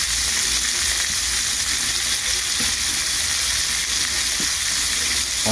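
Red shrimp with garlic and basil sizzle steadily in a hot pan, a dense continuous frying hiss heard close, with occasional soft stirring clicks.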